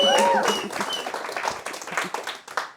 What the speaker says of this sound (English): Give yourselves a round of applause because this is something special.